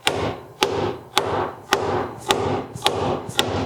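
A steady series of sharp metallic strikes from a small ball peen hammer on the sheet metal of a rusted-out 2005 Toyota Tundra, about seven in a row at a regular rhythm, each ringing briefly before the next blow.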